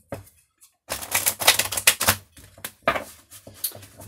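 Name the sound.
shuffling cards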